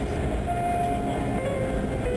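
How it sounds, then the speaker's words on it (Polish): A wooden historic tram rolls along its track with a steady, loud low rumble and drone, faint tonal squeal from the wheels, continuous throughout with no voices. "a dzisiaj pojedziemy drewnianym tramwajem"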